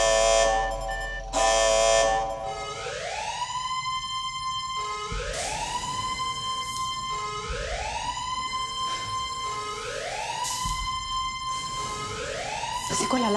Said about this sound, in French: C'est quoi l'alarme?